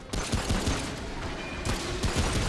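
Shotgun fire in the video game Remnant From The Ashes, a quick burst of loud, close gunfire blasts packed into a couple of seconds over game combat noise.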